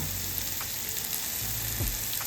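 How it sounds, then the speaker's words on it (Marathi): Oil and curry leaves frying in a pan for egg bhurji, a soft, steady sizzle close by with a few faint stirring scrapes, no talking. "आता त्याच्यात तेल टाकूया। आणि कढीपत्ता"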